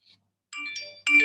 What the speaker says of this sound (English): and he will get a notification.